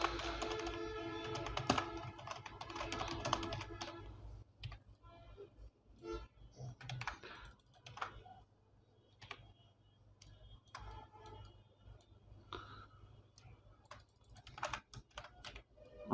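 Typing on a computer keyboard while designing a poster in Adobe Illustrator, with a dense burst of key clicks at first, then scattered, quieter taps alongside a voice talking.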